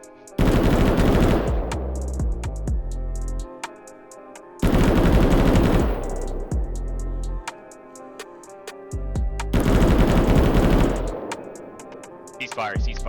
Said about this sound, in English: a 6 to 9 round burst followed by a 4 to 5 second pause, effectively sending out 100 rounds per minute